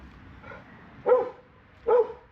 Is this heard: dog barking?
yes